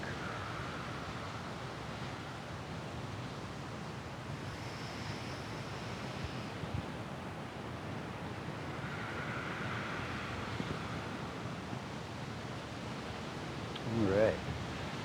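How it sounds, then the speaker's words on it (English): Wind blows outdoors during qigong practice, a steady broadband rush with microphone buffeting, faint and continuous for the whole stretch, with a brief louder gust near the end. "It's getting pretty windy and cold out here"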